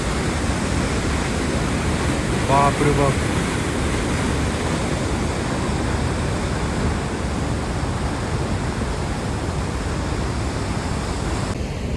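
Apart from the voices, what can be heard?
rushing water flowing through Mistaya Canyon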